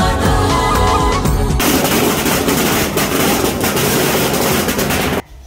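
Diwali firecrackers burst in a dense, rapid, loud volley, a continuous crackling roar lasting about five seconds before dropping off abruptly.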